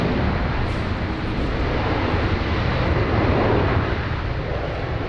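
A loud, steady roar of an American Airlines Dreamliner jet getting underway at Sydney Airport. The broadband engine noise holds nearly constant, swelling slightly midway, with no voices.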